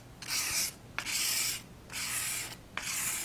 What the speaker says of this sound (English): Medium grit sandpaper, and I am just going to barely run that sandpaper over that gorgeous detail of that frame.